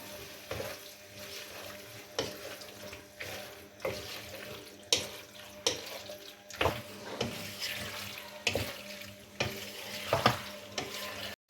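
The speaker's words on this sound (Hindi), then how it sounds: "और अब इसे मिक्स कर लें।" Chicken shell pasta is stirred and mixed in a hot pan, with a low sizzle and regular spoon scrapes and knocks against the pan about every second or two, without talk.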